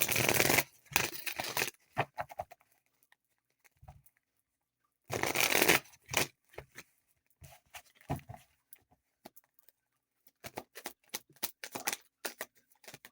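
Tarot cards being shuffled by hand: two dense riffling bursts near the start and middle, with scattered soft card taps and flicks between them, close and fairly quiet, no talking.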